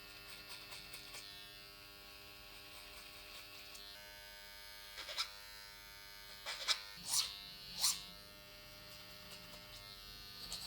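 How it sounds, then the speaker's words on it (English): An electric hair trimmer cuts hair during a long-hair haircut, a close, continuous buzzing hum with several louder bursts as the blades bite into the hair. "Just a trimmer which is a bit more precise and a lot smaller"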